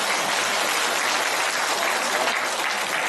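Audience applause fills a prayer-meeting lecture hall, a steady dense wash of many hands clapping at even loudness for the whole stretch, with no voices over it.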